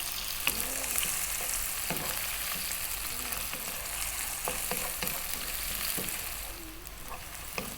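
A cup of onion fries with spices in a pan for an eggplant tomato curry, a steady close sizzle with occasional spoon stirs and scrapes, no talking.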